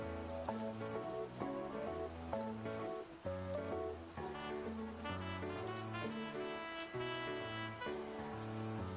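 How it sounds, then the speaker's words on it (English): Soft, faint rain patters steadily beneath gentle melodic music. "do you mean the sound of rain in the background?"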